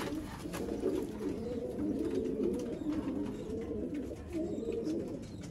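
Teddy pigeons coo steadily and continuously in a low, throaty rhythm, close and fairly loud, with several birds overlapping and no speech.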